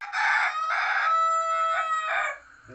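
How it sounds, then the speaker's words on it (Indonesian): A rooster crows loud and close in one long, strained call with several rising and falling segments, heard on its own with no talk. "Ini ayamnya kokok terus"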